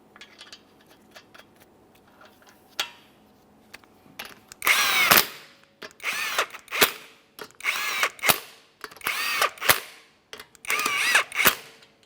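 A power tool snugs up 19 mm lug nuts on a 2015-2019 Subaru Outback wheel: after a quiet start, about seven loud, sharp whirring bursts follow one another with short pauses between them.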